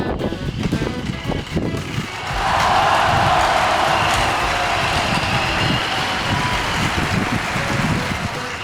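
A remote-control toy motorcycle drives and corners, giving a steady motor whine that rises and holds after a brief opening stretch, fairly close throughout with no talk.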